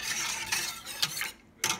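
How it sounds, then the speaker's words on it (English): A spoon stirs a thickening corn and cream mixture in a pot, scraping in a steady run of soft, close strokes with a short pause near the end. No one speaks. "All you have to do is keep stirring, so you don't want to get that burn at the bottom."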